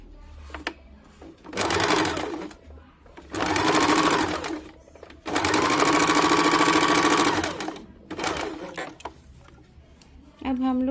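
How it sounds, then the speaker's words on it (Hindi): An electric sewing machine stitching a katori-cut blouse in several loud, steady runs of rapid whirring, separated by brief pauses with lighter handling noise and a voice speaking between runs. "इस वाले पोर्शन को नीचे के तरफ रख के चाप सिलाई डाल देंगे"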